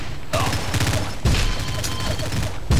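Grenade explosion and surrounding gunfire in the Facebook shooter game Ballistic, dense continuous bursts of shots and blasts with a heavy boom near the middle, loud throughout with voices underneath.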